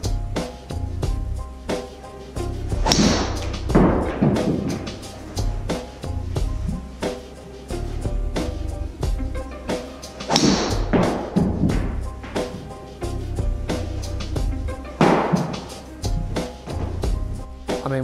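Three sharp impacts of a TaylorMade Rogue golf driver striking balls at a practice setup, each crisp crack spaced several seconds apart over a steady background hum.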